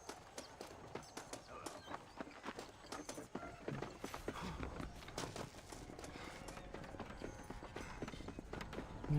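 Horse hooves clip-clop in Red Dead Redemption Remastered, a steady run of soft, evenly paced footfalls under a busy game soundscape with faint mechanical clatter, no talk over them.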